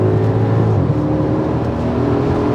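A V8 Audi S5 on 285-wide tires accelerates hard, a loud, close, steady engine drone with a slight pitch drop as it shifts up.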